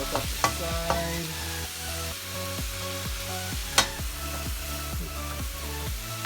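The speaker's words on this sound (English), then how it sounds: "I'm going to add in my chili. Mix that through." Chili and garlic fry in a pan, a steady sizzle with repeated spoon stirs and scrapes striking the pan in an irregular rhythm, one sharp clank standing out, close, no speech.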